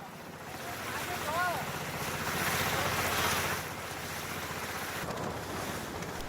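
A small boat crossing the sea, a steady rushing wash of water and wind noise throughout, with a faint low engine drone and a brief whistle-like tone.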